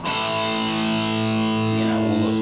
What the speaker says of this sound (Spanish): vamos a darle un poquito de distorsión y a ver cómo van estos parámetros